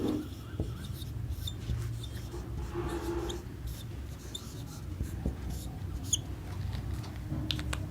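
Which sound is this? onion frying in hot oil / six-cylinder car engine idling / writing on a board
writing on a board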